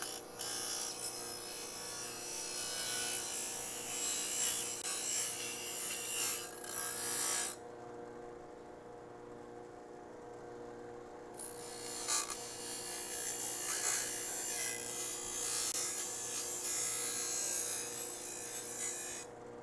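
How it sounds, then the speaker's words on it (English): A cut metal edge on a crew cab Charger project car is deburred by hand, giving a steady rasping, scraping rub that runs for several seconds, pauses for a few seconds, then resumes, close up with no talking. "Gonna deburr it."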